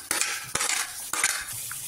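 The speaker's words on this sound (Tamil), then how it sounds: "வெங்காயம் சேர்த்து வதக்கிங்க." Onion and bitter gourd are sautéed in oil for a tamarind gravy, giving a steady sizzle broken by three sharp scrapes of a utensil against the pan, fairly close with no talking.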